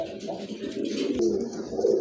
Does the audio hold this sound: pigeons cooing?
yes